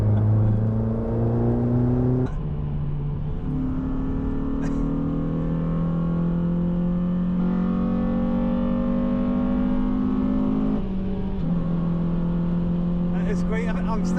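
A rusty Honda Civic Type R pulls on a Grand Prix circuit, its engine droning steadily from inside and stepping up in pitch through the gears, with no voices over it.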